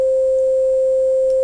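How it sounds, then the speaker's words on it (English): A pure, steady sine-wave test tone from a MOD tracker program used for chiptune samples, held at one unwavering pitch, loud and alone throughout. "Now, if I go back to the sine wave,"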